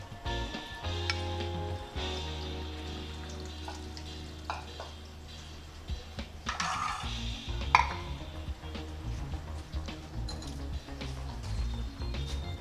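Chili, ginger and tomato paste sizzles and fries in a pot of bare paye, a steady close crackle with some stirring and faint clinks of utensils against the pot.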